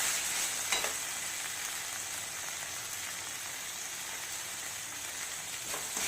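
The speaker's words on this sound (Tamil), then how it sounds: "இதே நல்லா வதக்கிக்கோங்க." Onions with tomato and salt sauté in a pan, producing a continuous bright, rain-like sizzle that holds steady throughout, with a couple of faint stirring scrapes and no voices.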